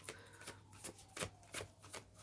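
Tarot cards are shuffled by hand, soft quiet riffling bursts repeating in an uneven rhythm, close and alone.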